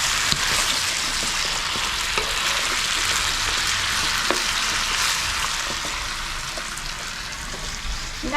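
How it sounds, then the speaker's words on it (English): Vegetables sizzle steadily in a hot pan, a continuous crackling hiss broken by occasional scraping clicks from stirring. "As you can see, it's frying up really good"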